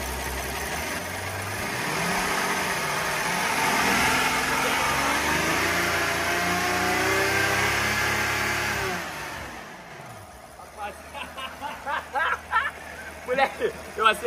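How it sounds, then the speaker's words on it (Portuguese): Rolls-Royce V12 engine revving hard at full throttle, a loud sustained rising roar that holds for several seconds and then drops off, followed by voices talking nearby. "Acelerei o V12 no máximo."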